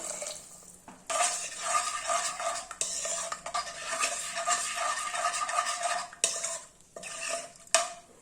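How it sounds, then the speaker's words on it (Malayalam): Steady scraping and stirring of fenugreek porridge in a pressure cooker pot, a spoon clinking against the sides, with brief pauses between bursts of movement. "ഇതൊന്ന് നന്നായിട്ട് ഇളക്കി കൊടുക്കണം"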